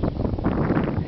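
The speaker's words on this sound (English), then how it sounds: "It's kind of windy." Gusty wind blows outdoors on a warm day, a loud, rumbling rush that buffets the microphone throughout a brief stretch with no talk.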